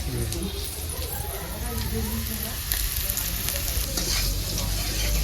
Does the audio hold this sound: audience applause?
no